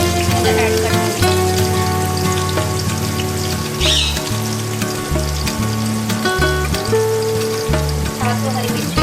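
Onion, mustard seeds and cumin crackle and sizzle steadily in hot oil, with a dense spitting texture that persists under a constant low drone and occasional clatter.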